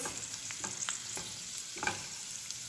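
Cardamom pods and raisins fry in hot ghee with a steady soft sizzle, punctuated by scattered small pops and the scrape of a spoon stirring, heard alone at moderate closeness.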